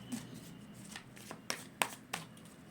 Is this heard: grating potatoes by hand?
no